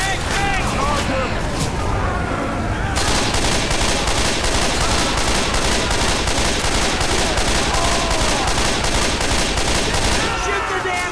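Sustained rapid gunfire from several weapons pours into the Tank in Left 4 Dead 2, a dense continuous barrage of automatic and shotgun fire lasting throughout, loud and close, with shouting voices and game noise mixed in.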